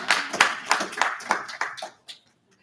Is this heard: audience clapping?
yes